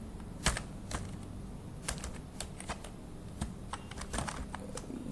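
Keys clacking on a stiff computer keyboard, irregular bursts of taps and a few louder strikes spread across the stretch, close and fairly quiet with no talking.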